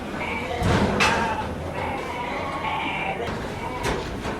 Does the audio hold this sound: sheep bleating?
yes